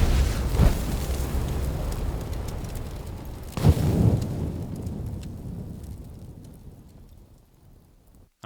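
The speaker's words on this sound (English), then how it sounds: "when we release the button, we have this giant explosion" A huge explosion sound effect for a fire mage spell in a game, made with Wwise, FMOD or Metasounds in Unreal Engine: a rumbling roar with two heavy booms, then a long decaying tail that fades almost to silence.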